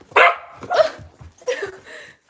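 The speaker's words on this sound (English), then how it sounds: "this is my sister's other dog" A dog barks in excited bursts, three or four loud close barks spaced apart over a couple of seconds, with a faint whine between them and no talking.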